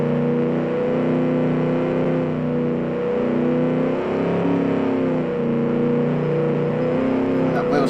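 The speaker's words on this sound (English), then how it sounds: "And that wheel spin coming in." A 1946 Gasmea car in the Automation racing game, with its engine droning steadily at high revs while the wheels spin under power, loud and continuous throughout.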